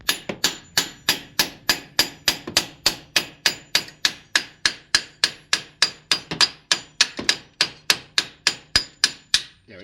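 A hammer pounds a car strut assembly on a PT Cruiser front suspension, roughly thirty sharp metallic blows in a fast, even rhythm, loud and close with no talk.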